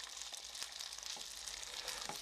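Steady, continuous sizzling of ham patties frying in a hot pan, a dense crackling hiss with occasional brighter pops, close and fairly loud.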